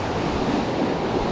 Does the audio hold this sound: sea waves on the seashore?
yes